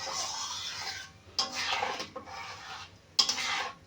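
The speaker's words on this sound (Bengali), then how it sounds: "এইভাবে একটু করে নাড়বো। নাড়তে নাড়তে একদম ঘন হয়ে আসবে।" Flattened rice pudding being stirred in a pot of milk over a low gas flame, with steady scraping and rubbing strokes and a couple of sharper utensil knocks against the pot, close and alone.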